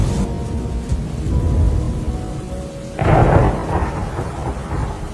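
Heavy rain falls through a cold night beside a river while thunder rolls, a low rumble that swells loudly partway through over the steady hiss of the downpour.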